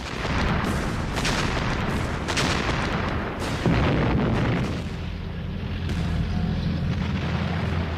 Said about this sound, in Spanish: Así que dispararon al edificio a bocajarro con artillería pesada